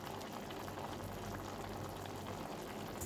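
A pot of dinengdeng with squash, moringa leaves and tilapia boils steadily, giving a continuous dense bubbling and simmering with no voices.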